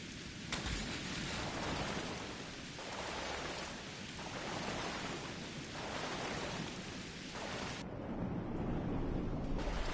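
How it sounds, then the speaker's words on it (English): Steady rain falls in the video game Star Trek Online, a continuous close hiss of drops with low rumbling swells like distant thunder, no talk. "Wow, rain on Ryza."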